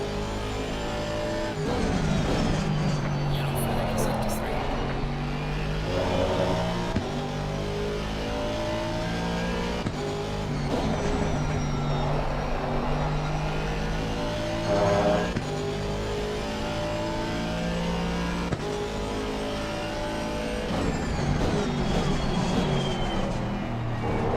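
A BMW race car's engine drones steadily throughout, revving and shifting up and down with other cars passing close by, loud and continuous.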